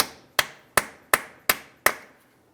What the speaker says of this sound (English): Let's continue on with a hammer and punch directly in the center of the axle.